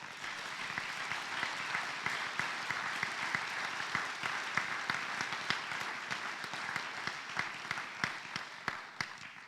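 A school-auditorium audience at a high school scholarship and awards night applauds a scholarship recipient, a dense, steady wash of clapping that carries on for several seconds with a few sharper claps standing out near the microphone.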